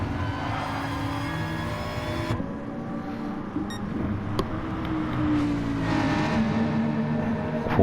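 Group 4 race car engines in a racing video game hold a steady, droning roar at high revs. Pitch shifts come through as the cars run through a lap together, with a brief sharp click partway through.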